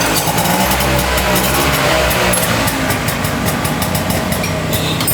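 Tuk-tuk engine running on a trip across India after a repair, a steady close putter of the small engine idling with rapid ticking and vibration, loud and even throughout.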